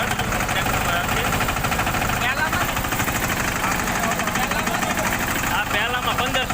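Tractor engines idle steadily in first gear at 1500 rpm, a Massey 5118 beside a Steeltrac 15 hp, giving a loud, continuous, slightly knocking mechanical rumble throughout.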